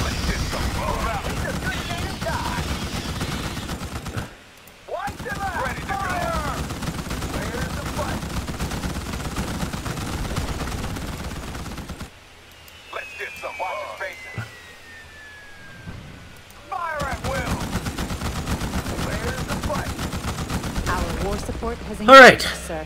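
Bursts of automatic gunfire against bugs in Starship Troopers: Terran Command rattle in repeated volleys with short gaps, mixed with game effects and radio-style voices.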